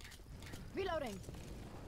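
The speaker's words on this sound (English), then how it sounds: "Reloading!" A gun being reloaded in Left 4 Dead 2 gives a brief mechanical clack with a short rising and falling metallic rattle, about half a second long, over quiet in-game background noise.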